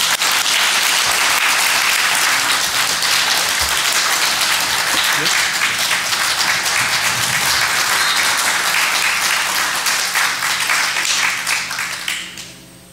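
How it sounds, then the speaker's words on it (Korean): A church congregation gives loud, sustained applause to welcome a guest speaker, the clapping holding steady for about twelve seconds before fading away at the end. "우리가 환영할 수 있는 가장 큰 박수로 우리 총장님 환영하겠습니다"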